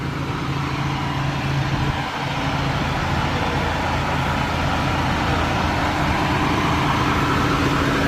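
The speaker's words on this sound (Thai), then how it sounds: "นี่คือเสียงเครื่องยนต์ฮิโน่" A Hino truck engine runs steadily at close range, a loud constant idle rumble with a low droning hum and no change in pace, heard alone without talk.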